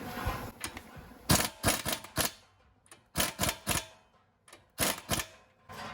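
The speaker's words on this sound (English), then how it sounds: "I've got my 21 millimeter. I'm going to go ahead and loosen that nut up." A 21 mm wrench works loose the tie rod nut on a Jeep Wrangler JK, giving quiet metallic clicks and clacks in short, irregular bursts with brief pauses between.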